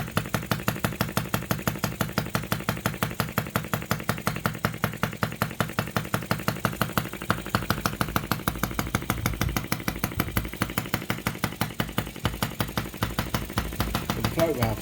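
An OKMO 1110 miniature replica of a 1950s Japanese engine runs at about three-quarter throttle. It fires in a steady, rapid, loud chatter, and its speed wavers slightly up and down throughout.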